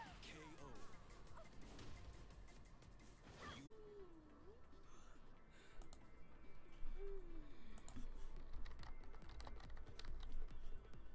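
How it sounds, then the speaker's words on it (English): Rapid clicking of a computer keyboard during an online Tekken 7 match, moderately loud and mixed with game sound effects, with a voice speaking over it. "Wait, I'm typing!"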